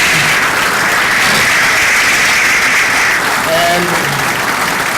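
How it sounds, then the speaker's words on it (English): Loud, sustained applause from a large crowd at a Jesuit High School graduation ceremony for the class of 2017, dense clapping filling the whole stretch with faint voices beneath. "So I want you to put your hands together and give them another thunderous applause for"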